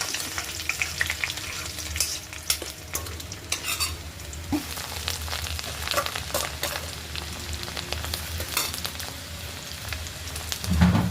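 Ginger and garlic frying in hot oil for a date pickle, a steady close sizzle with stirring scrapes throughout and a louder burst near the end, no talking.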